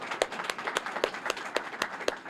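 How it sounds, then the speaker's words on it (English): At a union training center ribbon cutting, a modest audience claps for a leader. Distinct, fairly sparse hand claps land in a loose rhythm, sounding thin and somewhat distant rather than a full roar. "Please give her a round of applause."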